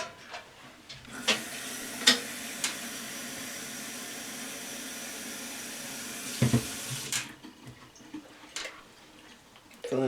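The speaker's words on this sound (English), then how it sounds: "I'm going to fill the rest of the bottle up with water" Tap water running steadily into a sanitizer bottle as it fills, a continuous close splashing hiss with a few small clicks and knocks from handling the bottle.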